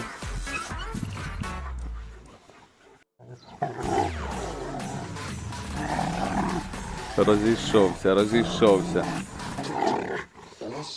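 A Rottweiler puppy growls and snarls playfully in close bursts while someone talks over it, with scuffling movement around them.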